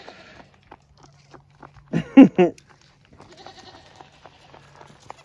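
Goats bleat loudly several times in quick succession near the middle, with scattered footsteps and faint farmyard voices before and after, in Alaska.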